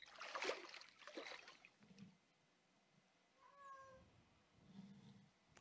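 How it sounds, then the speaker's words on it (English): A cat in the Let's Fish 2012 fishing game meows briefly: a short, clear tonal call in the middle of the clip, following louder rustling game noise, with a softer low sound near the end. "Quiet cat."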